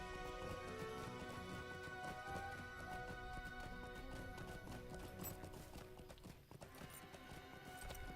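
Horse hooves in the online game Lord of the Rings Online, rapid rhythmic clip-clop running steadily under a dense tonal music bed, fairly quiet overall with a brief dip near the end.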